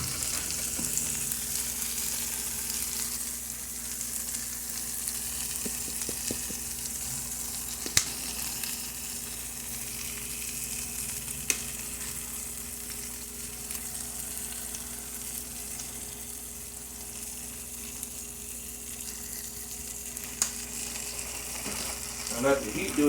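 French toast fries in a pan with a quiet, steady crackling sizzle, broken by a few small pops and the odd soft clink, over a faint low background hum.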